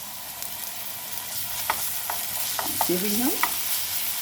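Ginger-garlic paste sautéing in a pan for spring roll filling, with a steady broad sizzle and sharp clicks of a spoon scraping and stirring; a voice briefly speaks over the frying near the end.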